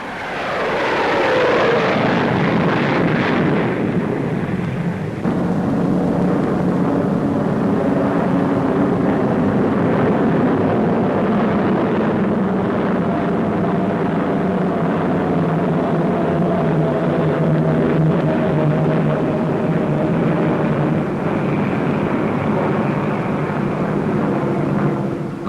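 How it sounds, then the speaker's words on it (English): Loud, steady roar of an Avro Vulcan delta-wing bomber flying over Farnborough, a broad jet rumble sweeping past and settling into a sustained drone with a falling pitch, no voices. "Arriving with the two Delta-shaped research aircraft from which she was developed, the Avro Vulcan bomber was top secret at Farnborough"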